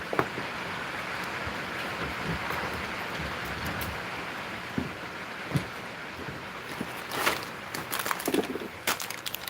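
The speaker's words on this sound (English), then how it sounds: "now it's starting to rain a little more" Rain picking up outdoors, falling harder as a steady broadband hiss with scattered sharper drip-like ticks that grow busier toward the end; no voices.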